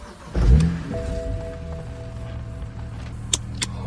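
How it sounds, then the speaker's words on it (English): A BMW 335i E92 engine with an upgraded in-tank 460 LPH fuel pump cranks and fires into a loud start, then settles into a steady idle rumble close by, with a couple of faint clicks near the end. "Alright, let's try and start it."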